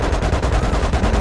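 Rapid, sustained automatic gunfire in a video game, with a dense, rattling burst pattern and heavy low-end thuds, loud and continuous throughout.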